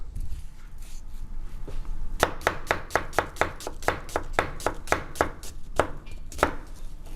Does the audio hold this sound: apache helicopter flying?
no